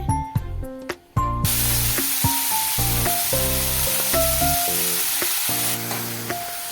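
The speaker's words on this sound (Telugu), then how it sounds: "ఆ కొత్తిమీర ఈ ఆయిల్లో వేసేసుకుంటుంది" A cup of fresh coriander leaves fries lightly in hot oil, a steady broadband sizzle rising after a brief quiet start and continuing close and loud under melodic background music.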